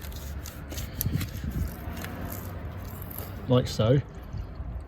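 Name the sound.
coolant draining from 2011 Vauxhall Astra expansion bottle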